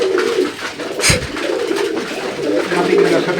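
Teddy pigeons coo at a pigeon farm in Durgapur, Rajshahi, giving low, rolling calls up close, with a sharp flutter partway through and people talking nearby.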